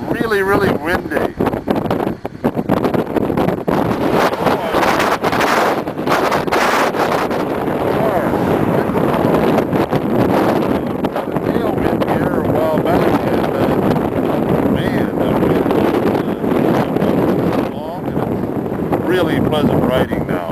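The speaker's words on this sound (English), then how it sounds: "It's really, really windy." Strong wind roaring and buffeting against the microphone while riding through open country near Pendleton, Oregon, a loud continuous rush with a voice speaking over it.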